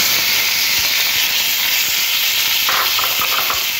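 Chopped tomatoes hit hot oil already seasoned with dried red chilies and black mustard seeds for a tomato chutney, giving a loud, steady, hissing sizzle that fills the whole moment with no one talking.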